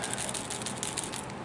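Small hard bits of hardened Play-Doh rattle and patter inside a hollow plastic Godzilla toy figure as it is shaken, a steady close, busy clatter with no voices.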